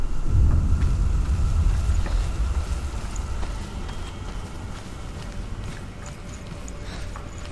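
Horse hooves clip-clopping in the game Hellblade: Senua's Sacrifice, a steady run of low thuds that is loudest at the start and fades as the animal moves off, with no voices over it.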